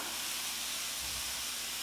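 Chicken pieces for stroganoff searing in a very hot pan give a steady, close sizzle and hiss that runs alone and unbroken, with a brief low stir or shift of the food partway through.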